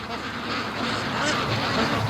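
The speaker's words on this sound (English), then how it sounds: "Alright, there's the ducks." A flock of Muscovy ducks arriving, giving a brief run of close, busy quacking and honking calls over a steady outdoor background.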